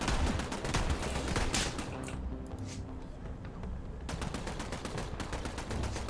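Gunfire in the video game Borderlands 3: rapid, sharp bursts of automatic shots, a brief lull partway through, then more firing, with a voice talking over parts of it.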